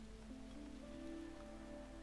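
Soft, steady rain patters in the video game The Wandering Village, a faint even hiss lying under quiet sustained musical tones throughout, with no voices.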